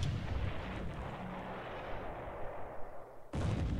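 Heavy naval gunfire from 8-inch shells striking the cruiser Houston in a World War II Pacific strategy game, a deep booming rumble rolling on and then a sharp fresh blast near the end, loud with no talking.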